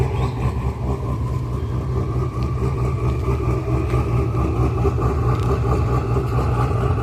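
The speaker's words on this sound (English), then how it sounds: "He's going to rev it up again once we get some people up here" A turbocharged Shelby Code Red engine rumbles steadily nearby at a car show, holding a low, even idle throughout with no sharp revs and no talking.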